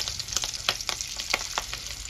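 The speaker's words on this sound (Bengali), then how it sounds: "ওই তেলেতেই মাছের ডিমগুলো ভেজে নেব।" Fish roe fries in hot oil in a pan, giving a close, lively sizzle broken by repeated sharp crackling pops.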